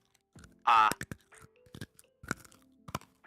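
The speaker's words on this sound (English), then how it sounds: "Did you crunch a fucking Jolly Rancher?" A Jolly Rancher hard candy is crunched between the teeth in one loud, sharp burst, followed by a few smaller crunches and chewing clicks. A voice speaks briefly around them.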